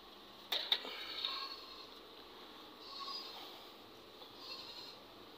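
A pregnant Gulabi goat, two to two and a half months along, gives a few faint, wavering bleats after some brief sharp knocks, heard quietly over a soft, steady outdoor background.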